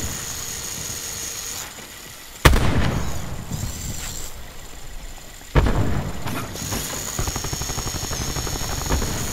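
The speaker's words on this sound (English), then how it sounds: "Controlling RCXD." RC-XD remote-control car in a shooter video game: a buzzing small motor whine with ratcheting mechanical rattles, broken by two sharp bangs before the whirring resumes.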